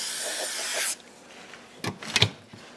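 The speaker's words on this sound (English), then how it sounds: "so we're going to spray that on the top" A spray can gives a steady hissing burst for about a second, then quiet, followed by a few short scrapes and knocks nearby.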